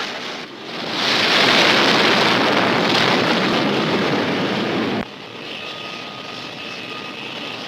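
A military jet launches from an aircraft carrier deck, a loud, sustained engine roar that swells within the first second, holds steady and then drops to a lower, steadier rumble with a faint tone above it.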